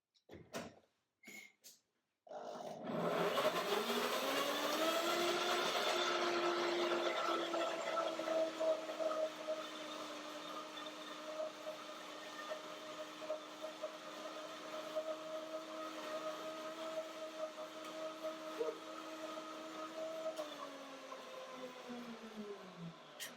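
A RevoBlend countertop blender whirs steadily for about twenty seconds after a few brief knocks, its motor holding a loud, constant drone with slight pitch wobbles before winding down at the end, with no talk.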